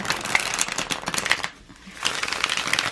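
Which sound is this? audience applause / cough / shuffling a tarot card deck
shuffling a tarot card deck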